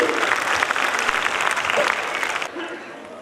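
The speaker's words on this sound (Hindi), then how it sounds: "ताली हो जाए प्लीज एवरीबॉडी" Audience applause at a school annual function, a loud dense burst of clapping from a large crowd that fades abruptly after about two and a half seconds into quieter room noise.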